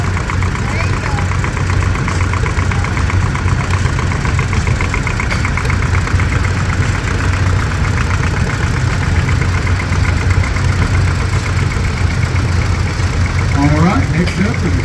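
A 1960 Massey Ferguson MF35 tractor idles at an antique tractor and truck show, a steady low chugging engine throb running continuously and loud, with a busy outdoor background and a voice talking over it.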